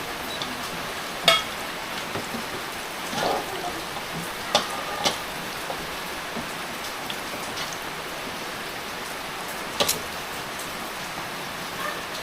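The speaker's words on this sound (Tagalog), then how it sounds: "Lakas nga ng ulan ngayon." Steady rain hisses on a surface throughout, with a few sharper drop or splash clicks scattered among the patter and no voices.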